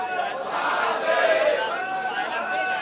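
A crowd of ruling-party supporters celebrating in the Maharashtra legislature premises after the Shivaji forts gained UNESCO listing, a dense mass of voices cheering and chanting together, steady and close.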